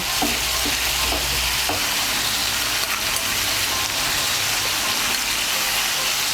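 Mixed vegetables for Bengali niramish sukto sizzle steadily in a pan with ginger paste, with a few scraping stirs near the start over a continuous, fairly loud frying hiss.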